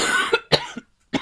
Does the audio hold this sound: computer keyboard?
no